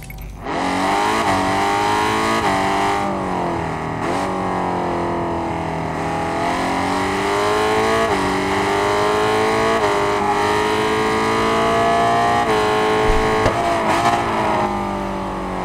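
A Honda motorcycle engine in the video game Ride 5 whines continuously at Brands Hatch, its pitch climbing and dropping with gear changes and throttle, loud and steady throughout.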